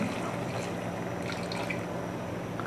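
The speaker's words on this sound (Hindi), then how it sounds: "तो इसमें हम कर देंगे आधा कप पानी का ऐड" Half a cup of water is poured into a pan of chicken, giving a steady, close splashing and trickling pour that runs without pause.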